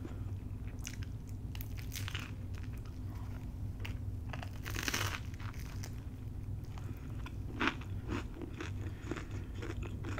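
Close crunchy bites and chewing of an open-faced cheesesteak, with several crisp, irregular crunches and soft mouth sounds, heard up close with no talking.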